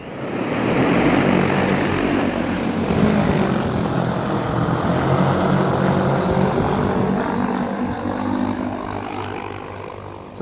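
A DJI Agras T100 agricultural spray drone lifts off nearby, its rotors giving a loud, steady broadband roar that holds level throughout without talk.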